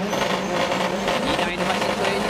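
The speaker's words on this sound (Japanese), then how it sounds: "2台のマシンとエンジンが今高鳴る" Two 900-horsepower D1GP drift cars roar together at a competition, a loud continuous engine howl with tire noise, steady throughout with no pauses.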